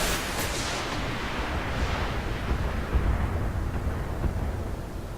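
Heavy mech weapons firing in the BattleTech beta video game, a dense rumbling barrage of explosive blasts that fills the whole stretch at steady, loud level.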